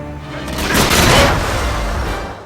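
A propane tank blows up in a video game level set at a St. Petersburg station, a loud booming burst that swells over about a second and then decays into a broad, lingering rumble.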